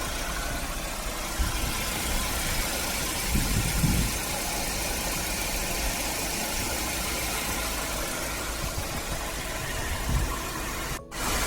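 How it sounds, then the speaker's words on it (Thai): A Mercedes-Benz car engine idles steadily and evenly, a low continuous hum with no knocks or rattles, close by and without talk. "เสียงเครื่องยนต์จะต้องเดินเรียบแบบนี้นะครับ"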